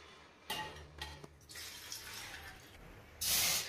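Water splashes from a cup into a bowl of maida flour for chegodilu dough, in a few short, separate pours with quiet pauses between them.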